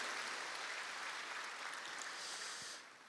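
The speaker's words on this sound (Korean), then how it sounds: "하나님께 영광의 박수 올려드리겠습니다." A church congregation at a Sunday morning service applauds in praise: a thick, even wash of clapping from a large crowd, heard alone, that tapers off abruptly near the end.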